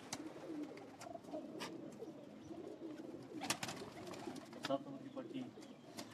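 Flying and breeder pigeons on a rooftop coo softly in low, murmuring calls, with scattered sharp taps and flutters between them, faint and close by.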